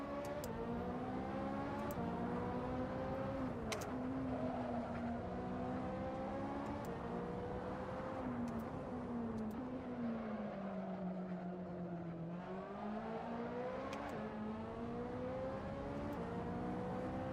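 A Ferrari 458 engine in the Assetto Corsa racing game drones continuously, its pitch rising and falling through gear changes and revs, with occasional sharp clicks over the steady engine note.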